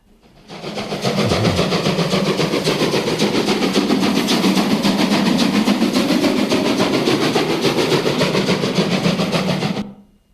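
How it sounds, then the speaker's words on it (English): A steam train roars past close by, a loud rushing chuff and rumble that swells quickly, holds for several seconds, then cuts off. "Did you hear the pitch of the steam go up as the train went by?"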